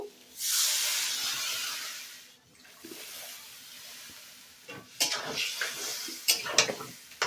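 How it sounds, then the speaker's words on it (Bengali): About two bowls of water poured into a hot pan of vegetables and spices for a light prawn curry, making a loud hissing sizzle at first that fades, followed by clinks of a utensil against the pan. "আমি 2 বাটির মতন জল দিয়ে দেব।"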